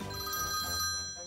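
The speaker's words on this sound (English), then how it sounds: "I gotta answer the phone." A telephone in a pizza restaurant game rings with a continuous bright trilling tone that fades slightly at the end, with no voices over it.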